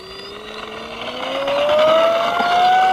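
A Durafly ME-163b RC model warbird plane screams at full throttle, its high motor whine rising steadily in pitch and growing louder over three seconds, close to the listener with no talking.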